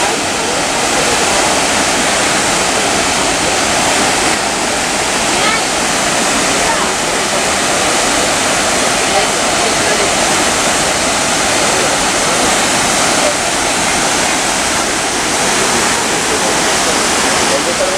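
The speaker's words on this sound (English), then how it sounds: "So, the last waterfall beside the spice garden is a small one." A small waterfall beside a spice garden in Munnar roars in a steady, loud, broadband rush of falling water that stays constant throughout, heard up close with no break.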